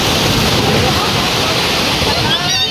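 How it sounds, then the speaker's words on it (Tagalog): A big ocean wave crashes and churns at the shore, a loud, steady roar of rushing surf filling the whole stretch with no pause. "The big wave is here."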